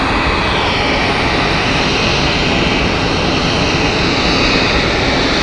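A Helvetic Embraer E2 jet inbound at Zurich Airport roars loudly and continuously, a broad, close engine rumble that holds steady without letting up.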